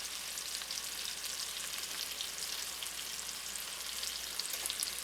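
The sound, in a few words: pork chops browning in a pan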